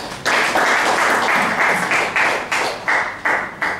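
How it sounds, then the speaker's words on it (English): Applause at a Toastmasters club meeting comes in uneven surges, a small group clapping close by in repeated bursts that fade and swell several times. "Give me a big round of applause"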